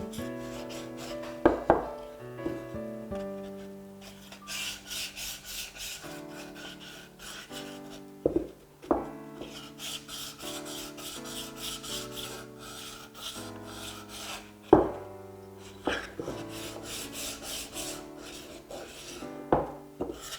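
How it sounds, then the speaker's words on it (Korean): Sandpaper rubs along the edges of a wooden piece in a woodworking workshop, in repeated rasping strokes with occasional knocks, close and clear over soft background music. "그러면 위쪽 아래쪽 4면을 모두 사포질 하겠습니다."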